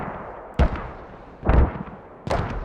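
Three heavy mortar blasts from the shooter game Squad, spaced about a second apart, each a sharp, deep thump with a brief rumbling tail over a quiet background.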